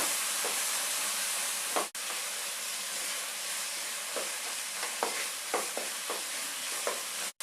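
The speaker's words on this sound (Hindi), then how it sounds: "तो इसको हम 1 मिनट ऐसे ही चला के पका लेंगे।" Chopped tomato cooking in a pan for sambar: a steady, bright frying hiss runs throughout, broken by intermittent spoon scrapes and taps as it is stirred, fairly close and alone.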